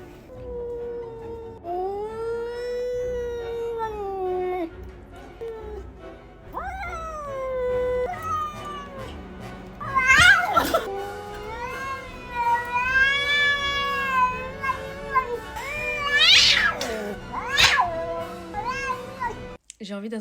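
An apartment cat in the countryside meowing repeatedly, drawn-out wailing meows rising and falling, close and loud, some turning to caterwauls, with a voice speaking alongside.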